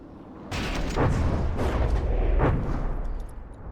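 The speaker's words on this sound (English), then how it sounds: "Here come some more missiles." Incoming missiles explode around a warship in a naval battle video game, a sudden loud boom followed by a sustained roaring rumble with further blasts layered in, heavy and close before easing off at the end.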